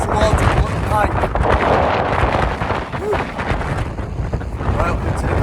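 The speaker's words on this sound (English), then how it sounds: "The wind's really starting to pick up." Strong wind on the ridge of Ullock Pike toward Skiddaw in the Lake District, in freezing winter conditions: loud, continuous buffeting rush and roar with gusts across the microphone, while people talk beneath it.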